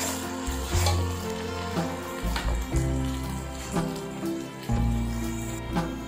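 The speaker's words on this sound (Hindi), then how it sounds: "कढ़ाई में मैंने एक कप ऑयल लिया है और एक मीडियम साइज की प्याज काट के डाल दी है" Chopped medium onion frying in a cup of oil in a kadhai with ginger-garlic and green chilli paste, a steady close sizzle and crackle with occasional louder bursts, no talking.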